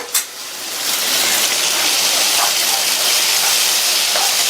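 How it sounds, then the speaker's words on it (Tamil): Tomatoes and ginger-garlic paste sauté in a hot pan for tomato rice, giving a steady, close sizzling hiss that rises after a brief clatter at the start. "தக்காளியை சேர்த்து லைட்டா வதக்கி விட்டுட்டு இது கூட 1/2 டேபிள் ஸ்பூன் அளவுக்கு இஞ்சி பூண்டு விழுதை சேர்த்து வதக்கிக்கலாம்."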